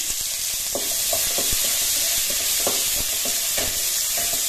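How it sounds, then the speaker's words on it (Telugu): Onion frying with groundnuts and cashews in a pan for Kurnool-style uggani, a loud, continuous close sizzle broken by repeated scraping stirs, with no talking. "ఆనియన్ వేసుకుందాం."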